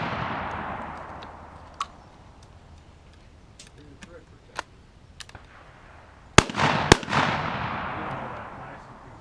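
A Cimarron 12 gauge coach gun fires number 4 buckshot at pizza-box targets on a range: two loud, close blasts about half a second apart, after a stretch of quiet outdoor background with a few faint clicks.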